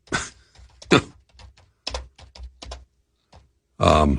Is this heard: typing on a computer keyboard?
yes